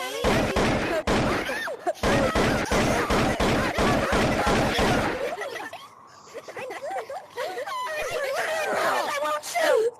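Rapid bursts of gunfire in the video game Monkey Labs crackle for about five seconds in quick repeated shots, then give way to excited voices and laughter.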